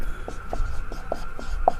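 Chalk or marker on a board during a Class 10 maths lesson, producing a series of short, quiet strokes and taps at an uneven pace over a low room hum.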